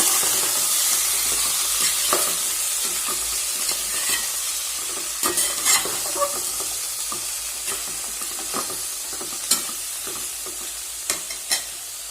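Uppu kari country chicken frying in oil in a pan, a continuous sizzle broken by scattered scraping and clacking strokes of a spoon as it is stirred, fairly close and with no voices.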